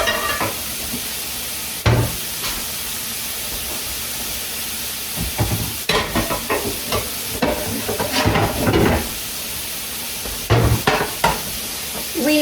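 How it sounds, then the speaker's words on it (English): Potatoes frying in a pan, a steady sizzling hiss under intermittent stirring and scraping bursts. "while my potatoes are getting crispy,"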